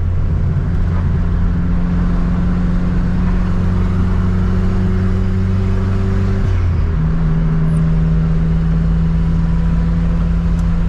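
The engine of a turbocharged Chevrolet Chevette runs loud and near, holding a steady drone with a brief dip and shift in pitch partway through before it settles again.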